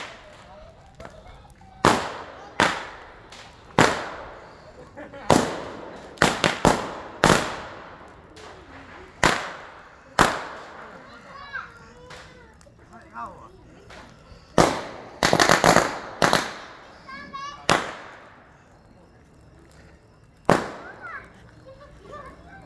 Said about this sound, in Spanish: Y ahorita está reventando los cohetes que tiene adentro.